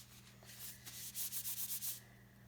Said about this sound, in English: I'm just tightening up my glove because it's a little big.